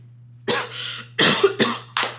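A congested person coughs four times, harsh and close, in a short irregular burst over a faint steady background hum.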